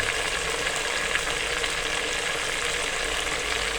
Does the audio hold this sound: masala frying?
yes